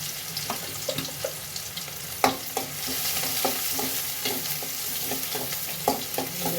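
Finely chopped onions roast in a hot pan for onion gojju, giving a constant, close crackling sizzle broken by irregular scraping and tapping of a stirring spoon; no one speaks.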